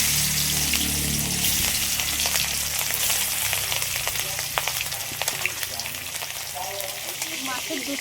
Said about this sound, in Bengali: এবার মাছ ভেজে নিচ্ছি।